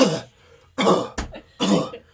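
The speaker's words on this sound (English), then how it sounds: "He coughs" A man coughs three times in a game scene, each a harsh, close, breathy burst separated by short pauses, with a sharp click between the second and third.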